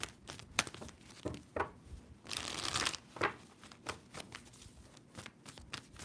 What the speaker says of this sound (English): Two more shuffles for Scorpio.